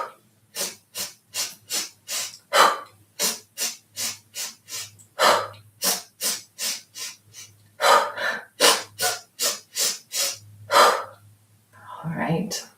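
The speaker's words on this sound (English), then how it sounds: "take 5 quick inhales through our nose and then an exhale through our mouth" A person does a breathing exercise, taking repeated quick, sharp sniffing inhales through the nose in rapid bursts of about five. Each burst is followed by a longer, hissing exhale through the mouth. The breaths are close, clear and rhythmic.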